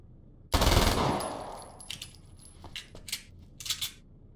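A weapon fires in the video game Alan Wake's American Nightmare with a sharp loud burst, followed by a decaying ring and a few scattered clicks and clinks.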